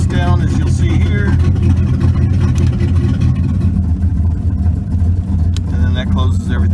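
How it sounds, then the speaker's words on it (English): A 1983 Chevy Camaro Z28 V8 idles loud and close with its exhaust cutout open, a deep steady rumble throughout with a slight rise in revs, while someone talks over it. "I'll kick the exhaust down, as you'll see here."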